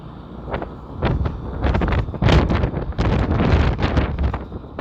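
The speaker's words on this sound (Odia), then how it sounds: "ସମୁଦ୍ର ପାଖାପାଖି ହେଲେଣି ସେଥିପାଇଁ ପବନ ବି ବଢ଼ିଆ ହେଉଛି" Strong, cold wind buffeting near the sea by the Luna river close to Paradeep, a continuous broadband roar swelling in rough gusts with heavy low rumble across the whole stretch, loud and close to the microphone.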